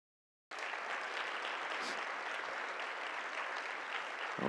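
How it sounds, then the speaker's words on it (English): Steady applause from the audience at a regional affordable housing forum in Southern Nevada, starting abruptly after a moment of silence and holding at an even, moderately distant level throughout. "I want to give a big round of applause to our executive director of the Southern Nevada Regional Housing Authority."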